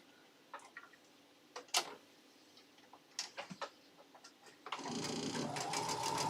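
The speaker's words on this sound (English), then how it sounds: "So I'm going to go ahead and get these sewn up together." Scattered quiet clicks and taps at first, then a sewing machine whirs into a steady, fairly loud stitching run, joining Christmas table runner pieces together at close range.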